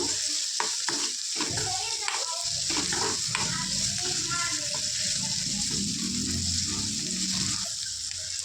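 Onions with ginger, garlic and chili frying for samosa filling, a constant loud sizzle with stirring scrapes throughout while a person talks over it.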